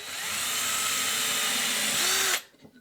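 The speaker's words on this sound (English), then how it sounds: "drill these all the way through" A power drill runs a small bit through wood, a steady loud whine lasting about two seconds, rising slightly in pitch as it breaks through before stopping abruptly.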